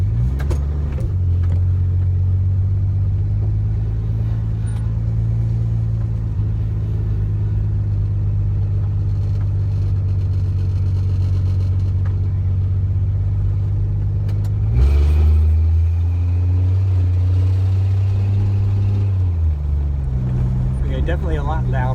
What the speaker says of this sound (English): so it sounds like a Slant Six